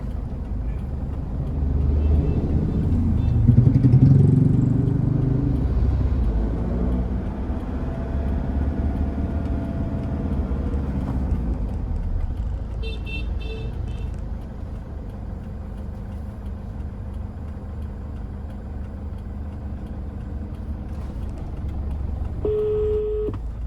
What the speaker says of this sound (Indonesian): maaf lagi di jalan Bang Anwar, lagi nyetir bang.